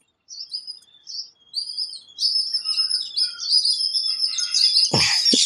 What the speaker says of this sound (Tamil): குருவி சவுண்டு கேட்காமா?